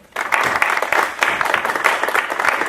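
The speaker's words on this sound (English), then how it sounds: "So let's give him a round of applause and thank him for coming out today." An audience at a campus talk on finding your strengths breaks into sustained applause, dense clapping building quickly and holding steady at a lively level throughout.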